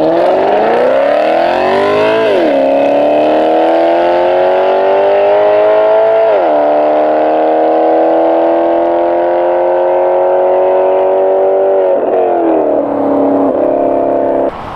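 Maserati GranTurismo MC with a Larini X-pipe exhaust accelerating hard through the gears, each pull a loud rising wail that drops sharply at the upshift, three or four shifts in all, close and continuous.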